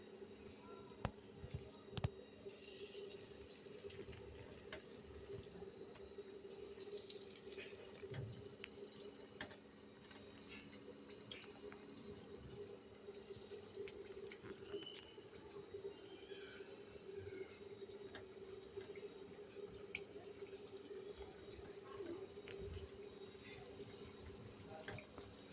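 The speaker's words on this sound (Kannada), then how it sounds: "ಇಲ್ಲಿ ನೋಡಿ, ಎಣ್ಣೆ ಕಾದಿದೆ. ಒಂದೊಂದೇ ಹಾಕ್ತಾಯಿದ್ದೀವಿ." Marinated chicken pieces for Hyderabad majestic chicken are slipped one by one into hot oil. A steady, close crackling sizzle runs throughout with a low hum beneath it and no clear talk.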